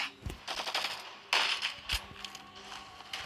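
Gunfire in a shooting video game rattles in quick bursts of sharp cracks, a heavier blast standing out midway, with no talk over it.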